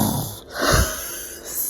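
A woman imitates her husband's loud snoring with one harsh, rattling nasal snort, drawn-in breath around it, close and loud.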